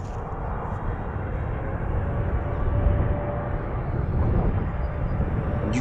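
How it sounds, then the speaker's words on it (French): A low, continuous engine roar of an airplane rumbles steadily throughout, swelling slightly in the middle as if passing overhead at a distance above a park near Paris. "j'ai fait quelques vidéos sur les passages des avions au-dessus du parc"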